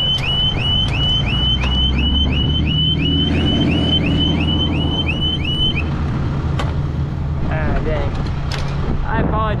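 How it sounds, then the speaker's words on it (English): A vehicle alarm wails in a repeating, looping pattern for several seconds, loud and close, then cuts off, leaving rattling and clunking sounds. "About that alarm going off."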